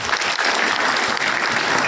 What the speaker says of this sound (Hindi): तालियां इस बच्ची के लिए